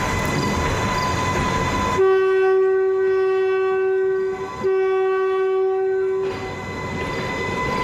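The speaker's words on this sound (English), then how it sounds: "I thought I would play a short video so you can kind of see what the train looks like when it's driving." A train runs along old rail lines, a steady rumble and clatter beneath a long, loud sustained horn blast that breaks briefly once before sounding again, then the rolling noise continues after the horn stops.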